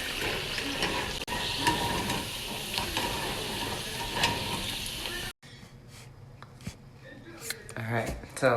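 Plantains fry in hot oil in a home kitchen, a dense, loud sizzle for several seconds that cuts off abruptly, followed by quieter clinks and scrapes of utensils and cookware, with someone talking throughout.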